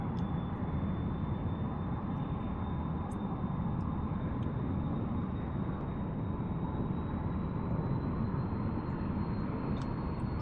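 F-100D jet in DCS on landing approach with engine power added: a steady, loud broadband roar with a faint high whine, continuous and unchanging throughout, no talk.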